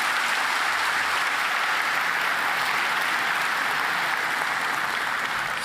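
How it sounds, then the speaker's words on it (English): Conference audience at Laracon EU in Amsterdam applauding, a broad, even roar of many hands clapping that holds steady and fairly loud for several seconds with no talking over it. "Big applause."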